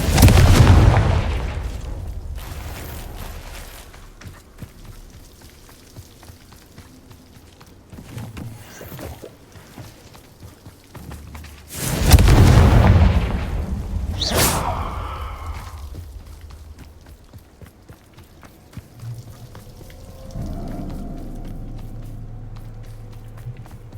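Confringo spell blasts in the video game Hogwarts Legacy: two heavy, booming explosions roughly twelve seconds apart, each decaying into rumbling debris, with lighter pops and a low ambient drone between.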